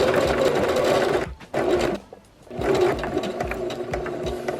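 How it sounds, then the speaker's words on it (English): A sewing machine stitches fabric for a homemade face mask, running in steady rapid bursts up close, with a short pause near the middle before the whirring stitching resumes. "make sure that when you're sewing, that you're not stretching the fabric"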